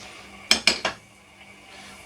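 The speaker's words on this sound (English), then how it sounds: "So I'm going to pop the lid on this, and this is going to go into the oven now" A lid being set onto a beef casserole pot, three quick metallic clanks in a row followed by quiet room tone.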